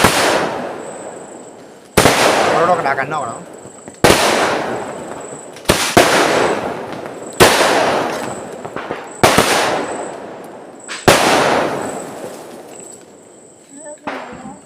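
Firecrackers and fireworks burst at a family Vishu celebration, about eight loud cracks every couple of seconds, each ringing out and fading, with people's voices in the background.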